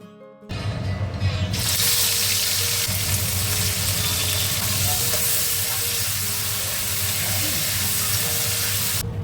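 Vegetable stalks fry in hot oil with panch phoron, the five-spice mix. A loud close sizzle bursts in after a brief silence and stays dense and continuous with stirring, and no one speaks.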